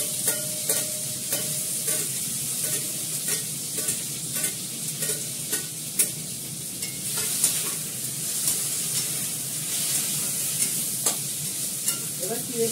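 Curry leaves and green chili fry in a pan, a steady close sizzle with repeated stirring scrapes and clicks throughout, no talk.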